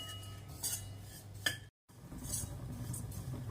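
Oats are stirred and roasted in a pan over low heat, with a spoon scraping and clinking against the metal in a few short strokes and soft rustling between them.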